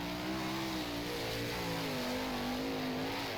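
A sprint car engine in rFactor drones loudly and steadily on a dirt track, pitch easing slightly downward and then climbing again over a few seconds, with no one talking.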